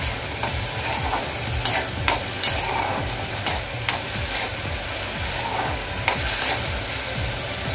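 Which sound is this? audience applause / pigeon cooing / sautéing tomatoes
sautéing tomatoes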